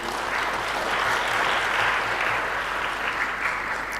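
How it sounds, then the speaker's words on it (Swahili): Dense, steady applause fills a hall at a national science, technology and innovation conference, many hands clapping together at an even, sustained level throughout. "Haya, tuongeze tena makofi mengi"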